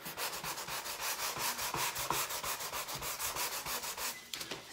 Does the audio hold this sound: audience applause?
no